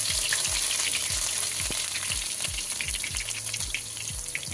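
Chopped garlic frying in oil over a low flame with cinnamon and spices, giving a steady, loud, continuous sizzle with a soft rhythmic low thumping underneath.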